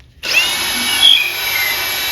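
Power drill, a Milwaukee or Ridgid, boring a hole into wood, kicking in abruptly and whirring at a loud steady pitch close by for about two seconds.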